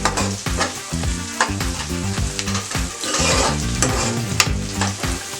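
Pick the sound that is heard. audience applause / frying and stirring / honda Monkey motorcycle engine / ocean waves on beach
frying and stirring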